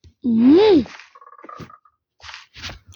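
A frog in the Minecraft video game gives one loud, close, rising croak, followed by fainter clicking game sounds and a couple of brief voice bursts.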